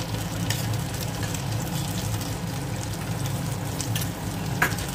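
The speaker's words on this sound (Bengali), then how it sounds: "বাটার দেওয়ার পর বাটারটাকে একটু ভালোভাবে মেল্ট করে নেব।" Browned chicken pieces frying in melting butter in a pan for butter garlic chicken, a steady close sizzle with soft bubbling crackles and an occasional stir, no talking.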